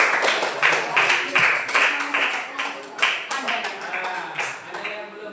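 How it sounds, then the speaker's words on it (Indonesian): A class of pupils claps hands together in quick, rhythmic bursts of sharp claps that repeat steadily, with voices mixed in among the claps. "Oke, tepuk tangan dulu semuanya"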